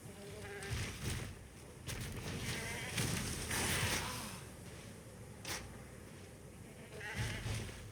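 Goat-man enemies in the action RPG Path of Exile bleat again and again amid busy, dense game combat noise, with loud bursts coming and going throughout.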